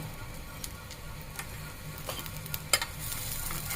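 Chopped garlic, onion and dried chili frying in oil for a lentil mash, a soft continuous sizzle with occasional stirring scrapes and one sharp clink near the end, close and fairly quiet.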